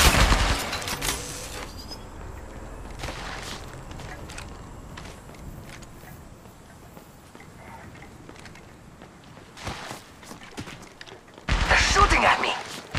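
Gunfire crackles in Apex Legends Mobile in several loud bursts, a dense volley at the start, scattered shots in the middle and another heavy burst near the end, with quieter game sounds and footsteps between.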